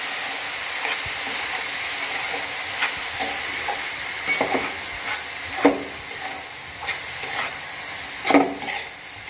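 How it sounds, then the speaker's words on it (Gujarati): Chopped green onions being stirred into a frying curry: a steady close sizzle and hiss with irregular spoon scrapes and soft clinks against the pan throughout. "હવે આપણે આ જે ડુંગળી લીલી કાપીને મૂકી હતી એ નાખી દઈશું અને આને સરસ મિક્સ કરી દઈએ"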